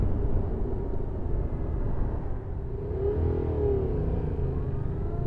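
A 2014 Yamaha MT-07 motorcycle engine runs steadily at a mild, even idle-to-low rev, with a brief rising-and-falling rev swell midway, close and continuous without talk.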